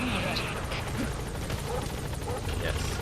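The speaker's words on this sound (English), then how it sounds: "Support helicopter has arrived." Support helicopter from Metal Gear Solid V arrives, its steady rotor drone running throughout under a continuous bed of game noise, with brief faint blips over it.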